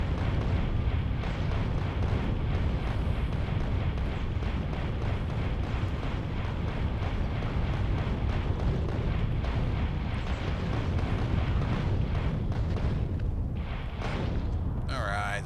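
Rocket launcher explosions in the video game Factorio with the Space Exploration mod form a dense, continuous roar of overlapping booms and rumbling blasts, loud throughout with no clear gaps, while someone talks over the din.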